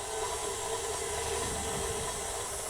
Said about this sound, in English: I'm just gonna cream those together